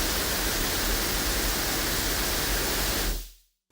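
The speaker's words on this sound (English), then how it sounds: "Now that's a pretty nasty pink noise signal all by itself" Steady broadband pink noise from a signal generator plugin, loud and unbroken, hissing evenly across the spectrum before cutting off abruptly near the end.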